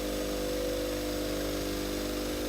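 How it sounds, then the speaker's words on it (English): Sisal buffing wheel with fast cut compound working over an antique copper pot, a steady, loud motorized whine with a constant drone and a rough abrasive hiss running unbroken throughout, no voices. "we've just hit the copper pot with the sisal and the fast cut compound"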